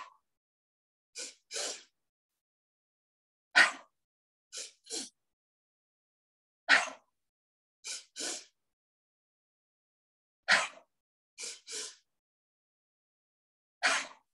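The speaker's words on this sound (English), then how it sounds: "When you're ready, double inhale." Pairs of quick, sharp nasal inhales come in a steady repeating rhythm during a breathing exercise, close and clear against near silence, each double sniff separated by a few seconds of quiet.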